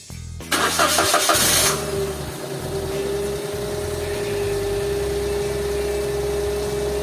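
A Gen 1 Toyota Wigo starts after a DIY oil change: a short, loud cranking whir catches into a running engine, which then settles into a steady, even idle close by.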